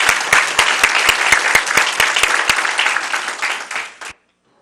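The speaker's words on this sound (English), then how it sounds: "Let's give her a round of applause." An audience at a county school board meeting breaks into loud, dense applause that holds steady for about four seconds and then stops abruptly into silence.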